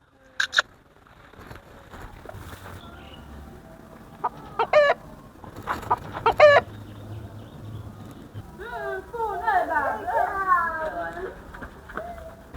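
Chickens cluck in short bursts amid people talking, with a run of rapid, excited clucking near the end; voices are heard throughout.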